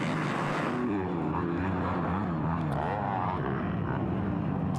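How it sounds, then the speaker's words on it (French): Two-stroke motocross motorcycles racing in a junior final at Ste-Julie, a steady layered engine drone with rising and falling pitches from several bikes at mid distance, continuous throughout with no clear gaps. "On entend ici les motos deux temps"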